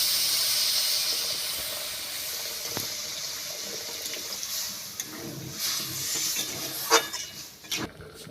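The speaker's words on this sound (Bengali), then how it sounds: "এবার পরিমাণ মতো জল দিয়ে আলুগুলো ভালো করে সেদ্ধ করে নেব" Water poured in to boil fried potatoes in a pan while cooking a ridge gourd, potato and prawn dish, giving a steady hiss and bubbling with a few faint clinks and knocks near the end.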